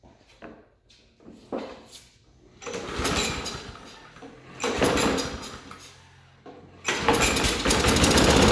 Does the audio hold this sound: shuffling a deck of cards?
no